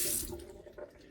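Water runs from the tap into a little sink in a tiny off-grid cabin on wheels, a brief, soft gush that starts strongest and fades within a second.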